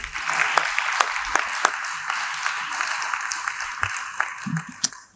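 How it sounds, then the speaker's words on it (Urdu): An audience claps for Peter Jacob at a memorial conference for Bishop John Joseph at Faletti's Hotel, a steady patter of hands with sharper individual claps standing out across the room. "میں چاہتا ہوں آج ذرا پیٹر جیکب کے لیے ہم تھوڑی تالیاں بجا دیں."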